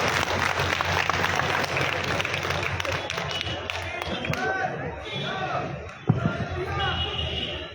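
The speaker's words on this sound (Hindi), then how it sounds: "जोरदार तालियों से स्वागत करें इनका।" An audience at a public gathering bursts into sustained applause to welcome a speaker to the stage, a dense wash of many hands clapping throughout, with a sharp thump near the end and voices mixed in.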